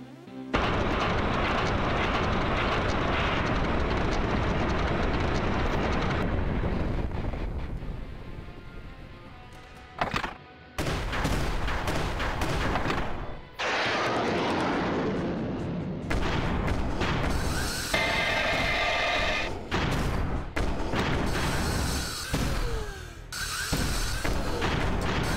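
Rockets fired by a mech at a boss in the side-scrolling shooter MechBlaze, a dense, continuous barrage of booming blasts and crashes with short breaks, steady and loud throughout.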